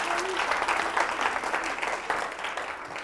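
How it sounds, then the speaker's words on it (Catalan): Studio audience applauding on a Catalan spelling quiz TV show, a steady dense patter of many hands sustained for about three seconds without a break. "Et farem aquest aplaudiment també."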